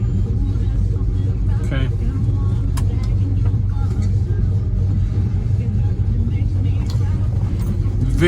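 A 1971 Oldsmobile Cutlass Supreme engine drones with a steady, deep rumble while driving, heard from inside the car, with a brief spoken word and light cabin rattles over it.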